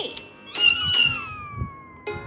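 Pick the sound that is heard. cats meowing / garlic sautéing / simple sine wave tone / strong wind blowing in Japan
cats meowing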